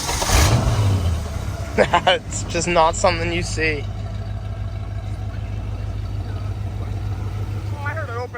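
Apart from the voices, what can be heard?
car engine revving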